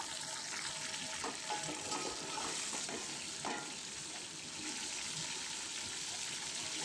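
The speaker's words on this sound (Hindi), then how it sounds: "प्याज का जो कलर है गोल्डन ब्राउन हो गया है और इसमें हमने चिकन जो है वो" Desi chicken dropped into golden brown onions for a curry, a steady close sizzle and bubbling frying sound that runs without pause, no voices.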